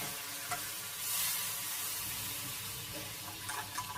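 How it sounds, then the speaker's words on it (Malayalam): Melted jaggery is poured into a heavy-bottomed uruli for a Kerala Onam sweet, giving a steady close liquid pour with a faint sizzling hiss throughout. "ഉരുക്കി വെച്ചിരിക്കുന്ന ശർക്കര ഒരു ഉരുളിയിലേക്ക് ഒഴിച്ചു കൊടുക്കാം"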